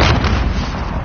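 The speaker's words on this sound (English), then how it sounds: "Grenade out!" A grenade detonates in a PS4 shooter game, a loud, close, booming blast that decays over about a second, heard alone without speech.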